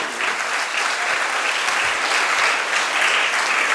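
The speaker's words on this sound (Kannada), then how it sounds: "ನೀವೊಂದು ಗೌರವದ ಚಪ್ಪಾಳೆಯ ಅಭಿನಂದನೆಗಳನ್ನು ಸಲ್ಲಿಸಬೇಕು" A hall of school students gives a sustained burst of applause, dense steady clapping from many hands at an even level throughout.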